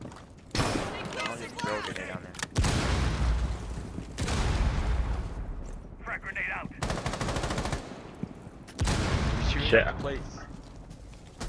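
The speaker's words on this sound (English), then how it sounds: "Let me shoot a grenade down there." Rainbow Six Siege gunfire comes in long, loud automatic bursts separated by short gaps, with a heavy boom at one point and players talking between and over the shots.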